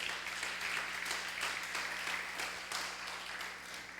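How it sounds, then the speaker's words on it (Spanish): Congregation applause at a Spanish-language church discipleship service, a steady wash of many hands clapping at moderate level with no talk over it. "Dale un aplauso fuerte al Señor."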